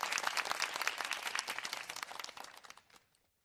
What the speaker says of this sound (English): Round of applause for the first comment of the day.